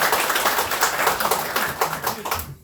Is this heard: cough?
no